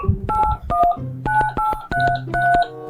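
Telephone keypad tones from an animated cartoon, a quick run of about seven distinct dialing beeps in an uneven rhythm, clear and fairly loud with no talking over them.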